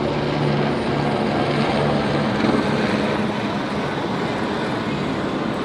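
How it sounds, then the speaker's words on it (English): A police helicopter hovers over a street protest rally, its rotor throbbing as a continuous loud drone that fills the whole clip without pause, with no talking. "I don't know what the choppers say."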